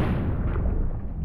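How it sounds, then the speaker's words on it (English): A shotgun blast aimed at the dealer in Buckshot Roulette, a heavy, dense boom sustained across the whole moment with a rumbling low-end tail, loud and close with no voices. "let's shoot the dealer"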